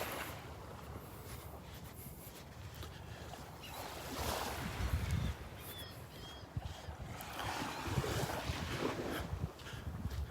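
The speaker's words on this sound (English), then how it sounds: "The tide is coming in now." Gentle surf washes in at a Gulf beach, Delnor-Wiggins, as the tide rises, a steady broadband wash with wind buffeting the microphone and swells building around the middle and end.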